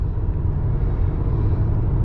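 Inside a car driving on the road, a low, even engine and tire rumble drones on steadily and fairly loud, with no one speaking.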